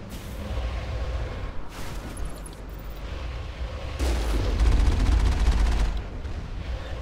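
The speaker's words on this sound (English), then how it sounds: "They are opening fire on us." Pirates opening fire in Mass Effect, heavy weapon blasts and gunfire booming in a dense, loud barrage that thickens in the middle, with no talking.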